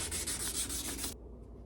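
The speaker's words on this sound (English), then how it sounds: "I get a little 1000 grit." Hand sanding with 1000 grit sandpaper on a Yamaha outboard tilt trim part, a quick series of rapid close back-and-forth scratchy strokes for about a second, then it stops abruptly.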